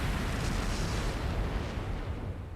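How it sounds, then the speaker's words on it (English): A flash grenade goes off in a video game as a deep, rumbling blast, loud and broad, that fades gradually over a couple of seconds with no speech over it. "Flash grenade! Everyone down!"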